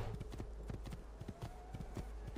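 Horse hooves clip-clop steadily in Assassin's Creed II, a quick, regular galloping rhythm of muffled thuds over a low game ambience.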